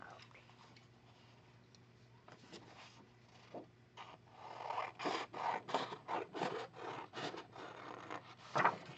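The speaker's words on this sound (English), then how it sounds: "so let's cut this circle out" Scissors snip and scrape through paper while cutting out a circle, a run of short crisp cuts growing louder and more rhythmic after a quieter start, close by with a faint steady hum underneath.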